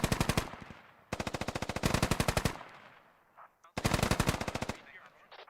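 Machine gun fire in the military shooter Squad: three long, rapid automatic bursts, loud and close, separated by short pauses, with a faint voice in one gap.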